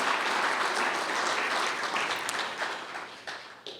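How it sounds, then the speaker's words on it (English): A large audience at a Washington DC muscular dystrophy tribute ceremony gives a loud, sustained round of applause, dense and continuous before tapering off near the end. "Let's give a big round of applause for all the people that have made that happen."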